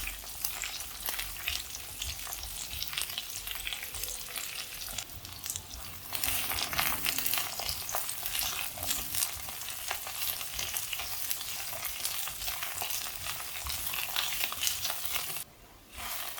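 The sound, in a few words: brinjal frying in oil while being stirred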